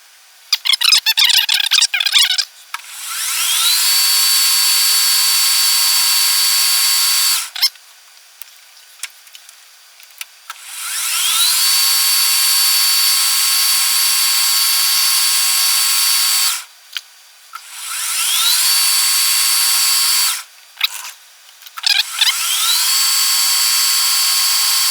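A metal lathe fitted with a Hemingway kit spherical ball turner makes repeated cutting passes, each a steady high-pitched whine and hiss lasting several seconds, separated by brief pauses and clicks.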